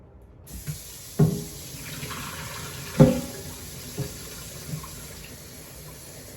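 Cut potatoes get rinsed under a running kitchen tap, with steady water flow and a few splashing clunks as the pieces shift in the bowl.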